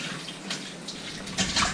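Ice water sloshes and splashes in short irregular bursts inside a soft cooler, close by, with a steady watery wash between the splashes.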